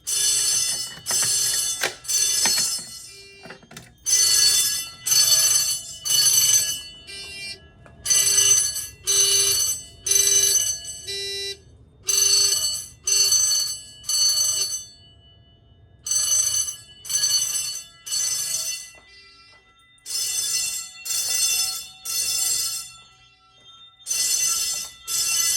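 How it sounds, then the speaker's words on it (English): Simplex 4100ES fire alarm system sounding second-stage general alarm bells in a basement: loud bursts of rapid bell ringing, each roughly a second long, repeating in an irregular on-off pattern for the whole stretch with no talk. "we've got second stage general alarm zone activated"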